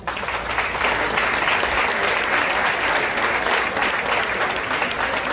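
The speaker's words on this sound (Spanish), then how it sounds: "Un aplauso para Luis." A crowd applauds steadily and loudly throughout a prize-giving ceremony at a summer golf championship in Llanes, the dense clapping holding an even level from start to finish.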